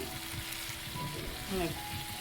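Loud sizzling and bubbling as liquid hits a hot pan, a close, frothy roar with a brief swell of boiling near the end.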